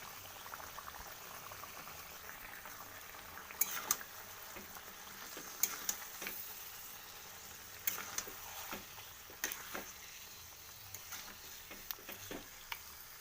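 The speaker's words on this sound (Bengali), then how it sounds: "এরপরে আমি মাংসটাকে ছেড়ে দেবো" Meat frying in hot oil with dried red chilli in a home kitchen: a quiet, steady sizzle and bubbling, broken by occasional light clicks and scrapes of stirring.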